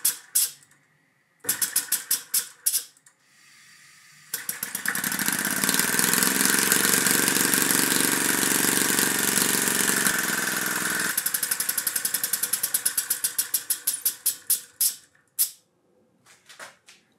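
A homemade compressed-air piston engine with a ball inlet valve, fed from a high-pressure air supply, puffs in quickening bursts that merge into a loud continuous hissing roar, then slows back into separate sharp puffs.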